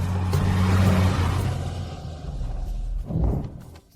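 A sports car rumbles close by as it arrives, its engine loud at first and then easing off. A brief thump or second surge follows near the end.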